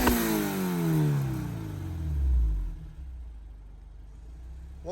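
A Honda S2000 Type S with a dual exhaust revs hard, its loud engine note climbing and then sweeping down as it settles to a steady idle, with no talking.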